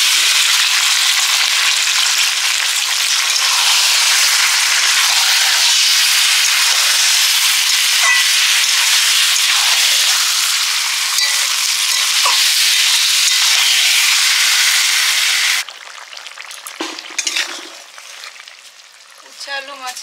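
Marinated meat dropped into a hot pan sizzles loudly and steadily for about fifteen seconds, a dense, close hiss that then falls away to faint crackles and light clinks.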